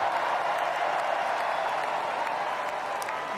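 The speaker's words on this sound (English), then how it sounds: "Why is everyone cheering so hard?" A large crowd cheers and applauds in a steady, even roar, heard somewhat muffled and at a distance with no clear individual voices.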